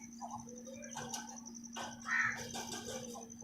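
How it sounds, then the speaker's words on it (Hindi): Several parrot calls and short chirps sound at moderate distance at a village home, with a steady background hum throughout and no talking. "ये देखो तोते माशाल्लाह बहुत अच्छे लग रहे हैं।"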